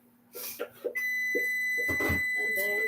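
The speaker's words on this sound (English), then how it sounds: "The timer's going off." A kitchen timer goes off during home cooking of ground lamb kabobs, giving a steady, sustained electronic beep tone that starts about a second in and holds to the end, with a few soft clattering kitchen sounds beforehand.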